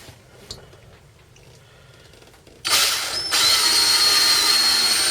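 A power drill whirs loudly into the mounting surface while boring screw holes for a Clearhull 110 ultrasonic antifouling control unit; quiet handling first, then a sudden sustained high-pitched drilling run lasting a few seconds.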